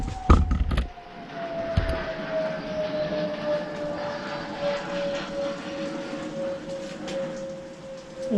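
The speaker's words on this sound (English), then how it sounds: "that jet didn't sound too good, did it? I don't know if you heard that engine" A jet aircraft passes overhead with its engine sounding rough, as if cutting out: a steady, moderately loud roar with a slowly falling whine, preceded by a few sharp knocks nearby.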